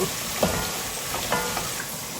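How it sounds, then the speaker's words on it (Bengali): Onions fry gently in a pan for pulao, giving a soft, continuous sizzle with a few light stirring clinks and scrapes, close and fairly quiet. "আমি জাস্ট পেঁয়াজটা একটু নরম করে নিব একটু আধা ভাজা করে নিব"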